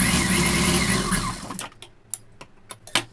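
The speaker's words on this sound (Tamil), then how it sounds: "உள் பக்கமாக மடித்து இப்போ அப்படியே தையல் கண்டினியூ பண்ணிக்கணும்." A domestic sewing machine runs steadily for about a second and a half, double-stitching the eye-band of a lined pa-neck blouse. It then stops, leaving a few sharp clicks and handling taps.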